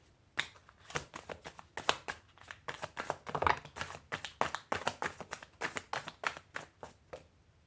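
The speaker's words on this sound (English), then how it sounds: "open the deck, shuffle it good." Deck of tarot cards being shuffled by hand, a quick run of sharp, crisp riffling taps and flicks in an irregular rhythm, close and fairly quiet.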